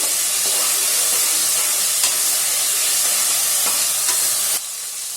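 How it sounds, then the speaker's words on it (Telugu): Cauliflower fries in a pan with ginger garlic paste, giving a steady, loud sizzle and hiss broken by a few stirring scrapes before the sound drops off sharply near the end. "వేసుకొని ఇది కూడా పచ్చి వాసన పోయేంత వరకు ఫ్రై చేసుకుందామండి"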